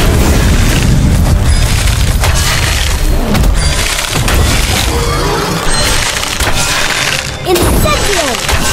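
Incendio fire spell effect from the game Harry Potter: Magic Awaken, loud and dense, with booming blasts and crackling impacts piled over continuous game sound for the whole stretch.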